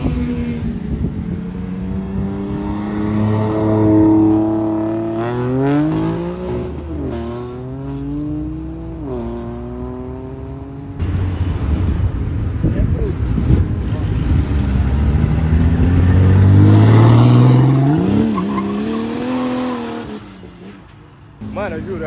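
Engine of a Puma Turbo car revving hard through repeated rising and falling sweeps, loud and close, with a turbo whine and a rough low rumble, and people talking over it.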